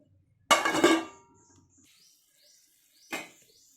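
A lid set onto a cooking pot of simmering fish pulusu gives a sharp metallic clack, then a smaller knock about two and a half seconds later, in an otherwise quiet kitchen.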